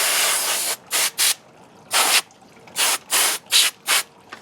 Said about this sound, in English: I got some blow-off duster.